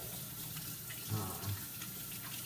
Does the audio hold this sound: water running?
yes